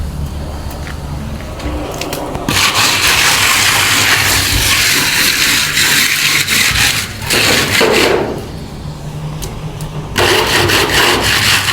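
A wall is plastered by hand with long, loud, continuous scraping and rubbing strokes close by. The strokes break off in brief pauses before resuming, and no one speaks.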